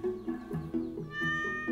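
Cat meowing in the Minecraft game world, a few short mews in quick succession over a steady tonal background hum, fairly close and moderately loud with no talk.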